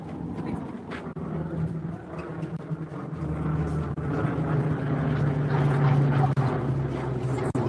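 An aircraft drones overhead in a city, a steady low rumble that slowly swells in loudness across several seconds with no speech.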